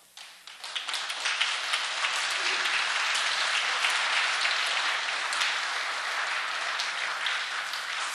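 A large audience at a 2007 peace message gathering bursts into sustained applause, building quickly from a few claps into a dense, loud wall of clapping that holds steady throughout.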